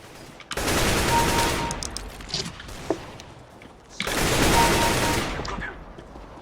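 Two bursts of rapid automatic gunfire from a first-person shooter game, each lasting over a second, with clicks and mechanical sounds in between.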